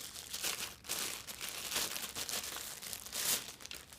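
Plastic wrapping around a lens adapter crinkles steadily for several seconds as it is unwrapped, a close, dense crackling rustle that swells and eases without pause.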